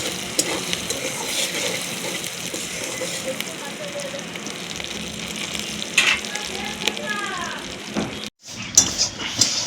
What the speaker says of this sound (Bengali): পেঁয়াজ ভাজার মধ্যে একটু লবণ দিয়ে দেব